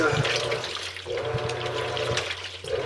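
A compact Giantex washing machine takes in water, a steady rushing fill with gurgling swells that rises and falls over a few seconds and sits up close.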